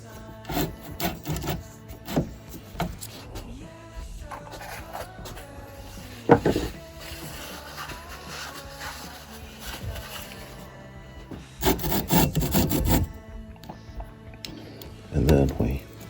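Soft gritty rubbing of lapping compound being worked around the scope rings of a Ruger 10/22, in close back-and-forth strokes with occasional knocks and louder scraping bursts toward the end.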